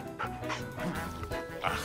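A dog in a children's animated show makes short barks and whimpering yips in quick succession over a busy background of music and noise.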